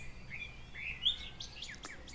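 Small birds chirp and tweet in a quiet Cheviot Hills valley in Northumberland, a few short high calls and a brief trill sounding at moderate distance over faint background hiss.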